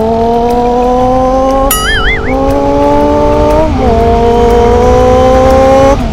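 A Honda CBR250RR motorcycle with nitrous accelerates hard, its loud, high engine note climbing steadily through several gear shifts with brief dips between them, close and continuous throughout.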